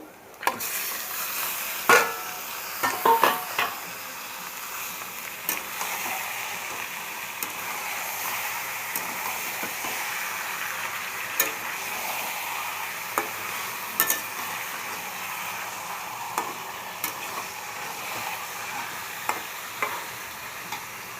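Chicken pieces fry and are stirred in a pan for hariyali chicken, a steady close sizzle with occasional sharp scraping clinks of the spatula throughout.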